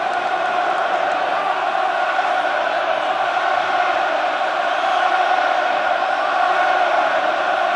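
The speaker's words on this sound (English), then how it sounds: "As the roar comes up from the Lansdowne crowd" Roar of a packed rugby crowd at Lansdowne Road during an Ireland versus England Six Nations match in 2005, a loud, steady, dense wall of cheering and shouting from thousands of fans that never lets up.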